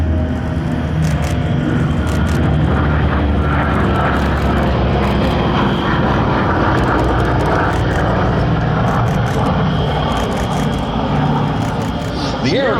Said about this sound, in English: Correction, that is the P-47 that's coming in.